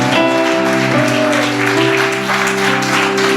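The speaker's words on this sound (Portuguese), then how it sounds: "Você pode aplaudir ao Senhor Jesus?" Crowd applause washing over sustained organ or keyboard chords, loud and continuous throughout.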